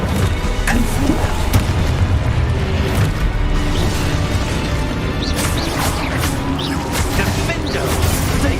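Confringo fire spell explosions in the video game Hogwarts Legacy, booming blasts and crashing impacts repeating loudly through a dense, continuous battle din of other spell effects.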